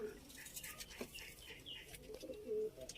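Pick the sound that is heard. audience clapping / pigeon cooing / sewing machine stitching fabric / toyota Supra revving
pigeon cooing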